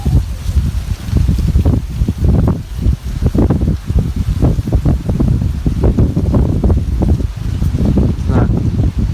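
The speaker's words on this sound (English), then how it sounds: "I'll show you what it looks like with all the wind." Howling wind sound effect playing in a Halloween yard haunt display with a fog machine, loud continuous gusting rush with rumbling low end, no voices.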